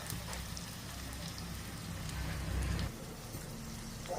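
Garlic sizzles in hot oil in a pan for a village-style mixed vegetable bhaji, giving a steady, fairly loud crackling hiss that swells briefly before easing off, with no talk.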